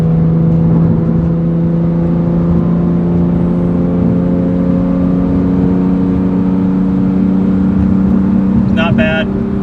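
A BMW M4 GTS with its S55 engine holds a steady, loud exhaust drone at moderate RPM from inside the cabin, rich low harmonic tones sustained throughout with slight rising pitch.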